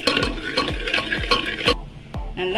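Cooked lentils (dal) being mashed and stirred in a pot for rasam, with repeated scraping, swishing strokes against metal, close and fairly loud, with a brief pause near the end.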